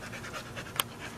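A puppy pants in quick, soft, rhythmic breaths close by, with one brief sharper sound partway through, quiet and alone.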